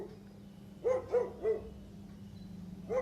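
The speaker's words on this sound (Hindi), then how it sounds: "कुत्ते अचानक भौंकने लगे।" A few dogs bark at night near a rooftop above a street, with three quick barks close together and another a moment later, all fairly faint over a low steady background hum.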